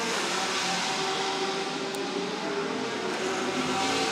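GT race cars on a qualifying flying lap at Chang International Circuit, a steady loud engine roar with a sustained high-revving whine, as if one car passes close by.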